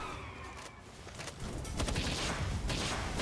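Machine gun fire rattles in the Palworld video game, a dense, continuous burst of rapid shots that grows louder partway through and keeps going to the end.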